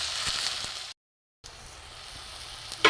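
Bitter gourd leaves dipped in batter fry as fritters in hot oil with a steady, bright sizzle that cuts out briefly and then returns, continuing evenly with no talking.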